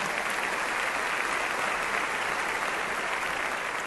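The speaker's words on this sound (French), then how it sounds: "Un fort applaudissement pour eux." Steady, full applause from a church congregation for a visiting German pastor and his wife, continuous and even with no speech over it.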